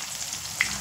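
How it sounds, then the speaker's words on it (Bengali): Chopped onion fries in hot oil in a pan with a steady close sizzle and one brief sharp pop. "পেঁয়াজটা একটু ভাজা করে নেব"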